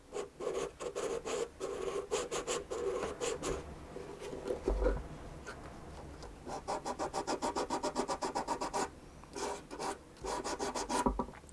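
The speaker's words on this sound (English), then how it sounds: "Let's fix that a little bit with some sandpaper." Sandpaper rubs across the wooden scroll of a violin in quick repeated back-and-forth strokes, coming in bursts of short scratchy passes with brief pauses between them, close and fairly quiet.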